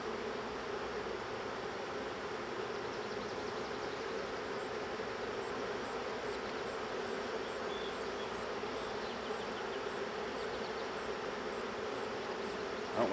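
Angry honey bees buzzing around a hive, a dense continuous swarm drone that stays even throughout, close and steady with no talk.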